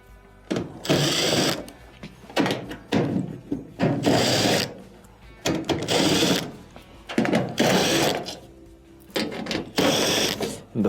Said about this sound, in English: I must first remove this panel that has multiple 1/4-inch screws going around the perimeter